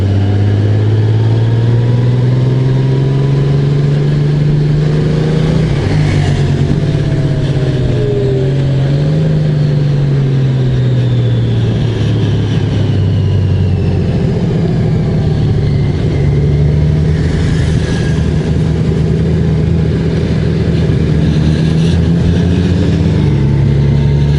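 A 2024 Honda Goldwing Bagger's six-cylinder engine with DCT gearbox hums steadily at road speed, loud and close, its pitch rising and falling gently as the motorcycle rides along under constant wind noise.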